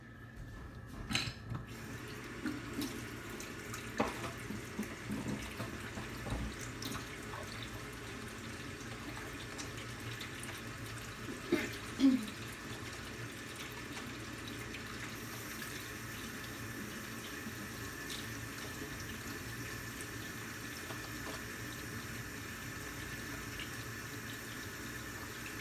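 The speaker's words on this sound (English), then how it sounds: "So I'm gonna wash my hands, and then I'm gonna stick my hands in and see what it feels like." Water runs quietly from a tap during handwashing, a faint continuous splash with a few louder bumps and drips over a long stretch, with no talking.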